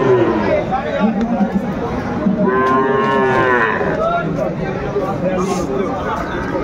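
A loud moo from Sahiwal bull calves rises over busy crowd chatter and several people talking nearby at a bustling outdoor cattle market in Dinajpur.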